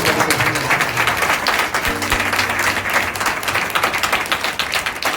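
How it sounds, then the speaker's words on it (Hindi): A congregation at a prayer centre claps and applauds, a loud, sustained mass of hands with rhythmic pulses near the start, and a low tonal hum partway through. "अब जितनी ताली बजाना ताली बजाना"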